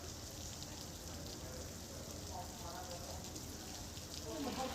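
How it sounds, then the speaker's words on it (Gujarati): Rain falls steadily in Jafrabad town under heavy dark clouds, a continuous hiss of drops that holds level throughout and swells slightly toward the end, with no voices. "ઘનઘોર વાદળો વચ્ચે જાફરાબાદ શહેરમાં વરસાદ શરૂ થયો હતો"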